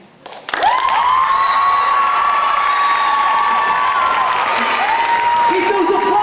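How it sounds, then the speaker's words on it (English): Students at a high school ninth-grade poetry slam burst into loud applause and cheering for a poet, starting abruptly after a quiet moment, with high shouts and whoops riding over steady clapping. "Keep those applause going!"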